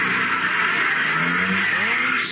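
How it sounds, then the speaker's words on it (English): A car speeds away as a radio drama sound effect, a loud, sustained engine roar with a rising whine, close and steady, with no voices. "Hopped into his car and took off like a scalded skunk."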